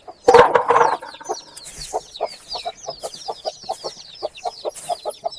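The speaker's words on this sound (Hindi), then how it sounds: "ये मुर्गी जो है ना बड़ी बदतमीज़ किस्म की है" A hen clucks inside a village chicken coop, a close series of short, rhythmic clucks after a loud flurry of squawking at the start, with faint chirping in the background.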